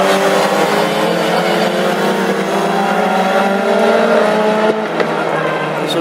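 Classic hot rod race cars lap the big fast oval in Tipperary, Southern Ireland, on a night warm-up, with a loud, sustained engine drone that shifts in pitch as cars pass, and a brief sharp knock near the end.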